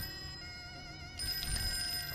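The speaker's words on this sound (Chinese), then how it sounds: "电话响了多少次" A telephone rings in a horror video game with a steady electronic tone. The ring continues as the background sound thickens partway through, with no talk.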